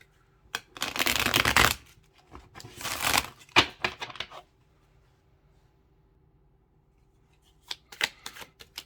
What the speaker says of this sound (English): Do a quick shuffle here